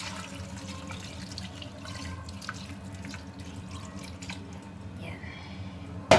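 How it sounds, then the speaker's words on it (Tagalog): Water poured into a pot of pork adobo ribs with bay leaf and ginger, a soft steady trickling splash heard close up in a kitchen for several seconds, ending in a brief louder clatter. "lagyan na rin po natin ng konting tubig"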